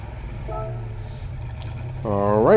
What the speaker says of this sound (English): Alright, I'm going to click on this car. And we'll listen to the startup sound